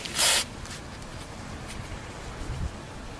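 A single short hiss of WD-40 dry lube aerosol spray near the start, about a fraction of a second, during a rear brake pad change on a Land Rover, followed by quiet background with faint handling noises.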